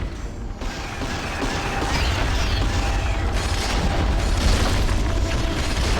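Weapons of a war machine mech firing in the Skylanders: Spyro's Adventure game, a steady loud rumble of booming blasts and mechanical noise with no talking.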